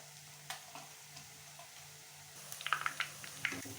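Batter poured from a ladle into hot oil for a Tamil-style mixture snack, frying with a faint steady sizzle that swells into louder crackling pops toward the end.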